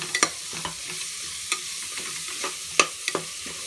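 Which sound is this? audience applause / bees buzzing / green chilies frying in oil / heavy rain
green chilies frying in oil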